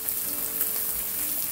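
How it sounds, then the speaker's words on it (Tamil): Green chillies sizzle with onions in a pan for a prawn fry, a steady close crackling hiss that fills the whole moment with no voices. "இந்த டைமில் நான் இந்த வெட்டி வச்சுருக்கிற பச்சை மிளகாயை போடுறேன்"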